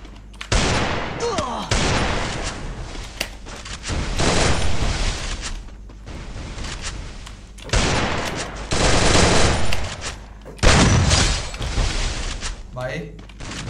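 Bursts of automatic gunfire from a battle royale video game come in several loud clusters separated by quieter gaps, with someone talking excitedly in Hindi between and over the shots.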